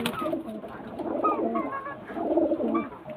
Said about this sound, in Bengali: এটা মাদা পায়রাটা নর পায়রা